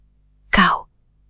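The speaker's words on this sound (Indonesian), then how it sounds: "Raga terbatuk-batuk." One short, harsh cough or throat clear, close and loud, in an otherwise quiet room.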